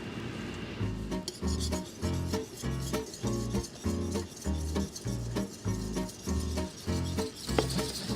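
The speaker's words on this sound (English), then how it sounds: "whisking constantly to avoid clumps" A whisk scraping rhythmically through batter in a bowl as dry ingredients are added, a steady close rasping beat of repeated strokes with no talk.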